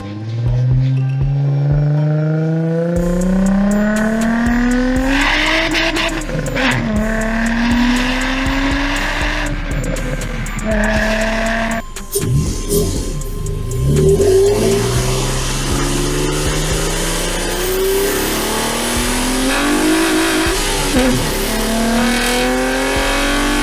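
A car's engine intake roars through repeated revs, picked up close by a homemade microphone: rising and falling pitch sweeps, loud and sustained, with no talking.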